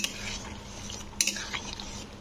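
Semolina for sweet halwa being stirred in a pan over a raised flame, a soft scraping of a spoon against metal with a faint steady sizzle and a couple of sharper clinks, quiet and close.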